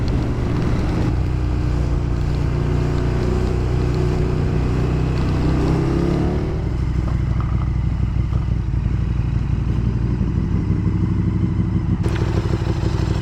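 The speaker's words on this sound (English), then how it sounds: "The rain's come down really heavily now," Heavy rain pours down while a KTM 1290 GT motorcycle is ridden, a steady dense wash of spray and road noise over a constant engine drone, easing slightly after a shift in pace and ending with a brief clatter.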